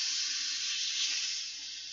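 A bottle of sparkling water is opened and fizzes, a steady bright hissing of escaping gas that is close and fairly quiet and eases off slightly toward the end, with no talking.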